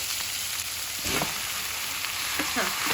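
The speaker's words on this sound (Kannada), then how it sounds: "ಇದ್ರ ಜೊತೆ ನಾನಿವಾಗ ಆ 4 ಟೊಮೆಟೊ ಏನಿತ್ತೋ ಅದನ್ನ ಹೆಚ್ಕೊಂಡಿರೋದನ್ನ ಹಾಕ್ತಾ ಇದ್ದೀನಿ." Chopped tomatoes hit hot oil and onions in a pan for a mutton curry, giving a steady close sizzle with brief stirring scrapes partway through.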